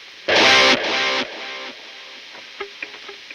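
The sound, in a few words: distorted electric guitar with delay in effects loop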